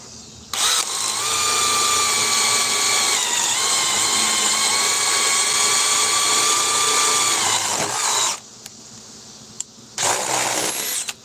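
A cordless power drill on speed 2 with a 4 amp battery pack whines loudly and steadily for about eight seconds, boring into wood, then stops and gives another short burst.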